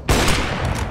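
Rapid burst of gunfire in a Counter-Strike match, close and loud, with shots rattling continuously through the whole second and no talk over it.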